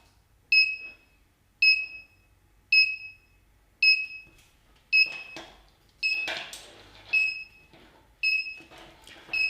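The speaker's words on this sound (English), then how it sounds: "when the buzzer is on, making noise, the LED begins to blink off" Electronic buzzer on a coding kit beeping in short, sharp, evenly spaced bursts about once a second, close and clear, with some faint clatter in the background.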